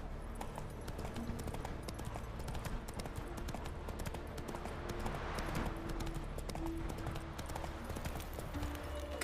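Roach the horse gallops across open ground in The Witcher 3, hooves pounding in a steady rapid clip-clop rhythm, loud and close, with game ambience and occasional faint tones layered beneath.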